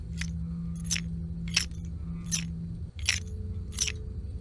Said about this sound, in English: Scrap Baby has metallic rattling.